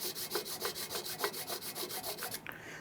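Old gasket material is scraped off the intake mounting surface of a 3.8 Ford Mustang, a quick run of rhythmic, evenly spaced rasping strokes, close and fairly quiet, ending with a small clatter.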